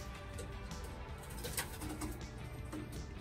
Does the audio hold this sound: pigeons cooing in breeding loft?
yes